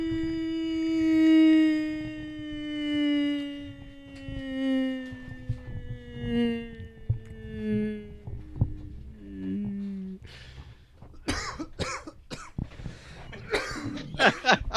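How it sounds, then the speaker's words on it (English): A long, low droning tone slowly falls in pitch, followed by a burst of harsh, raspy coughs near the end. "You gotta have the coughing in there"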